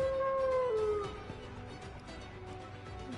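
A dog howls in the Jujutsu Kaisen video game, a single drawn-out, falling cry up front that fades into soft background game ambience.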